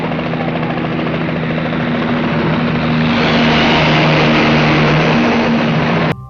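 A helicopter roars close and loud in a film finale chase after a getaway car, its steady rotor and engine noise swelling as it pushes through hangar buildings, with no talking over it.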